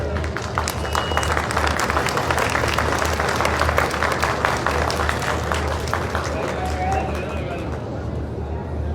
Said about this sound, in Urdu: آپ کی بھرپور تالیاں ہونی چاہیے